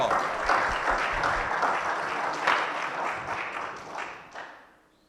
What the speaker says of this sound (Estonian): Aplausi võib ka teha.